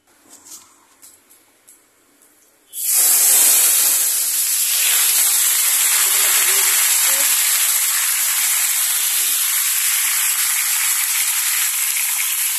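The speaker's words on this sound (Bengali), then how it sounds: "তেলটার মধ্যে এখন আমি আমগুলোকে দিয়ে দিচ্ছি।" Mango pieces drop into hot oil in a kadai, setting off a sudden loud, steady sizzle that holds for about ten seconds after a quiet start.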